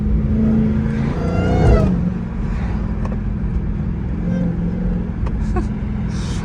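A Dodge Hellcat engine revs in slow morning traffic, heard from inside the car: a loud, deep rumble rises in pitch through a rev in the first two seconds, then settles into a steady low drone.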